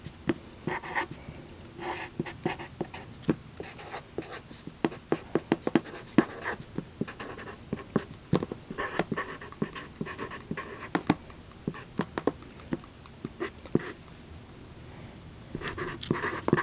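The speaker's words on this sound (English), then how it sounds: "Now I go ahead and write some smart-ass stuff on the playing cards" A pen writes on playing cards at close range, with steady scratchy strokes and frequent small taps continuing for a long stretch and faint panting in the background.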